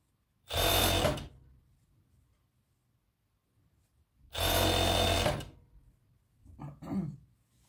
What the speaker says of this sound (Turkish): Ve overlock'ta kemerimizi takıyoruz.